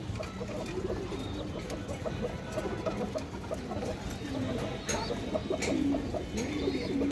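A female pigeon among other birds at a pigeon sale coos softly and intermittently, with clucking fowl and background chatter mixed in at moderate loudness.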